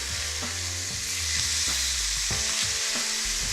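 Cabernet-marinated steaks sizzle steadily as they brown in a hot pan, a continuous close frying hiss with a few soft bumps and scrapes over it.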